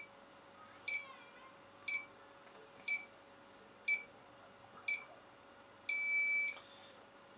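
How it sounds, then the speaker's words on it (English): Five short electronic beeps about a second apart, followed by a longer sustained beep, from a nearby wireless home security alarm panel arming, over a faint steady hum. "press the arm button and get the beep again to say yes, it's armed"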